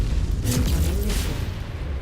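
A deep explosion from an incoming missile in MechWarrior 5 bursts with a sharp crack followed by a rumbling, reverberant roar that lingers at steady loudness.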